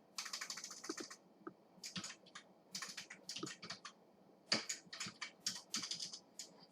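Typing on a computer keyboard, close bursts of rapid key clicks separated by short pauses, soft and alone in a quiet room.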